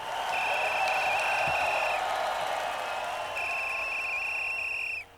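A referee's whistle starts and stops a children's race at a school: two long, clear, steady blasts separated by a short pause, loud over faint background noise.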